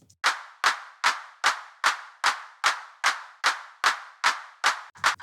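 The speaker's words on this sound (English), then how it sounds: "we'll just listen to the dry clap" Dry, unprocessed clap sample repeating at an even tempo, about a dozen sharp hits in a steady pulse, each with a quick decay and no added effects or talk.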